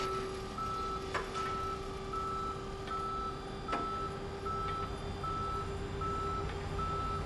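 A tow truck's reversing alarm in the game Police Simulator beeps steadily over a constant engine rumble and street noise. The tones come at an even rhythm throughout, moderately loud.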